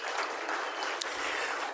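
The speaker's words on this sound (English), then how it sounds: "big round of applause for our winners there." Audience applause for award winners at an evening awards ceremony, a steady dense clapping from a full room that holds at an even level throughout, with no talk over it.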